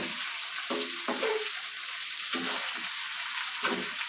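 Marinated chicken pieces, rubbed with salt, turmeric and lemon, fry in a pan until reddish for a biryani. A steady bright sizzle runs throughout, broken by a few brief stirring scrapes.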